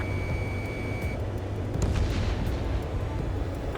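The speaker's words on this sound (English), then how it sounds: "missile away" Missile launch in the Ace Combat 7 video game, a loud, continuous rushing roar filling the whole clip with a short bright tone early on.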